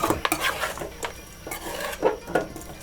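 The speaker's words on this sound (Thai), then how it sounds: "คั่วให้ไก่สุก" Chicken is stir-fried in a pan for a Lao-Isan kaeng om curry, with a utensil scraping and clanking against the metal in uneven bursts and a faint sizzle beneath.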